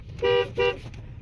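A 2001 Chevy Impala horn sounds two short, loud honks in quick succession, close by.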